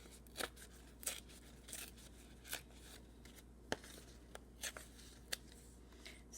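Scissors snip through fabric and paper while cutting collage embellishments, with about eight crisp, separate cuts spaced irregularly against a quiet room.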